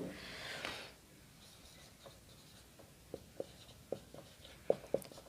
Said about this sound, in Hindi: यहाँ लिख देता हूँ मैं।